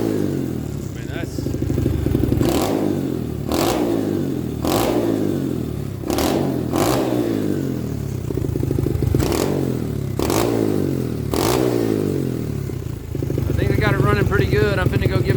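A 125cc pit bike with a Nibbi 22mm carburetor running close by, a loud steady idle broken by repeated sharp revs at fairly regular intervals, then a fluttering rise at the end.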